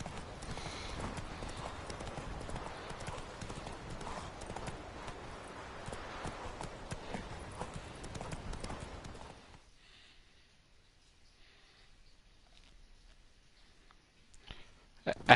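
A horse's hooves clip-clop in steady walking rhythm in The Witcher 3, fairly faint and continuous for about ten seconds before stopping, followed by near silence and a short burst of sound at the very end.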